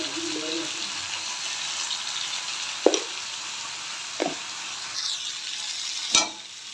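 Tomatoes and turmeric frying in a pan make a steady sizzle, with a few sharp scraping knocks from stirring and a louder clatter near the end.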